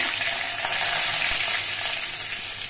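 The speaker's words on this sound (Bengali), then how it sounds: "এবার এগুলো নাড়াচাড়া করে ভেজে নিতে হবে।" Bay leaf, dried chili and panch phoron fry in hot mustard oil in a kadai, giving a steady loud sizzle with faint stirring scrapes, close and continuous with no voices.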